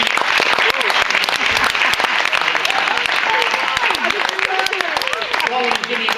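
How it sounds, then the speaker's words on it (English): A studio audience applauds a quiz-show contestant with dense, steady clapping that holds for the full stretch while a voice carries on over it. "A round of applause for Jimmy"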